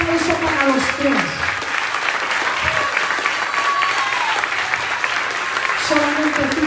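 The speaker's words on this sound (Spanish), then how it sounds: "Un aplauso para los tres." Congregation at an evangelical church service applauding, continuous dense clapping throughout, with a voice speaking over it and sustained musical tones at the start and end.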